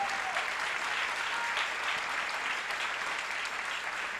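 Steady applause from a church congregation fills the full four seconds at an even, moderate level, a dense wash of many hands clapping together with no speech over it.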